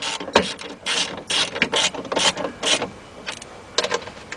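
A ratchet with an 8mm deep socket on an extension drives bolts into a Mercedes-Benz E320 rear door during window regulator work. It gives close, crisp bursts of clicking in short uneven runs with brief pauses between strokes.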